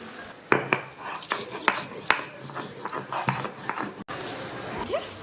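Fried spice masala is ground into a paste for a fish curry with bitter gourd and potato, heard as close, repeated rasping scrapes and knocks of stone or utensil in an irregular rhythm.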